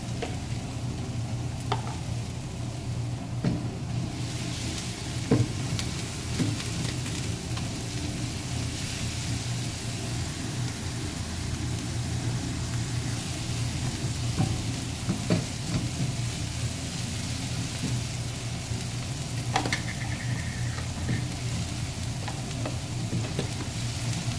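Onion and garlic fry in hot oil in a pan for chicken adobo, giving a steady, close sizzle with occasional stirring scrapes and taps, and no one talking.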